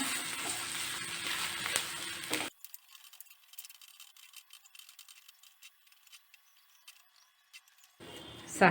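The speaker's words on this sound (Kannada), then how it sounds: "ಸ್ವಲ್ಪ ಫ್ರೈ ಮಾಡಬೇಕಿದ್ದು ಬೇಳೆನ" Ground lentils (dal) fried in a pan, a loud steady sizzle with stirring that cuts out after a couple of seconds, faint clinks in the quiet, then the sizzle returning at the end.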